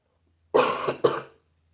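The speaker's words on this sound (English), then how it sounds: "Still got just the last remnants of this cough." Two close, throaty coughs in quick succession, then silence.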